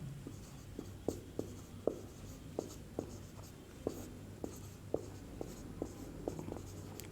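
A pen writes a math solution on paper, making a steady series of short scratchy strokes and taps at a fairly even pace, quiet and close, with no talking.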